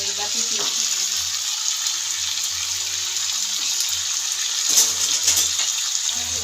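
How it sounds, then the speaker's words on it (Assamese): Meat frying in a pan with potatoes and onions, a steady, close hiss and sizzle running throughout, with faint clinks and stirring sounds and no talk. "আমাৰ মাংস এটা ভাজি আছে"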